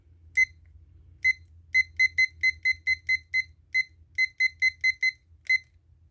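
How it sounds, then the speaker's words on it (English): Kitchen timer alarm going off in a kitchen during low carb mac and cheese cooking: repeated sharp electronic beeps in quick bursts, some single and some in rapid doubles, loud and close over a low background hum. "I'm going to go ahead, set our timer."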